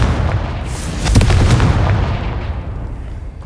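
The Confringo blasting spell goes off in Hogwarts Legacy, a loud, close booming blast that swells into a sustained rumbling roar and then slowly fades over a few seconds.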